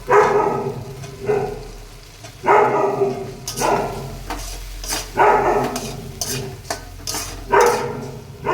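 Cauliflower florets drop into a hot pan for a butter cauliflower paneer dish and fry with loud bursts of sizzling, stirred in repeated scraping strokes every second or two.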